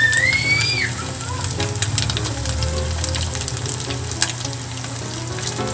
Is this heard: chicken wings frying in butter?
yes